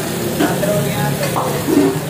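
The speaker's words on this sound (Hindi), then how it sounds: "अब इसके अंदर जो हमारा कीमा है वो इसके अंदर जाएगा इसको तड़का छड़का लगा के" Minced keema fries with onion, chili and tomato, sizzling hard in a pan while it is stirred and scraped now and then, loud and close, with a busy background behind it.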